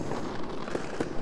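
Fireworks effects from an Unreal Engine 4 project: a dense, continuous crackle with several sharper pops and bursts standing out near the end, loud and close with no talking.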